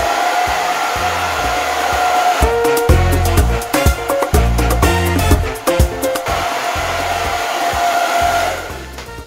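A hair dryer blows loudly and steadily while drying hair straightened into a sleek Japanese-style look, its roar wavering and pulsing as it is moved around before easing off at the end.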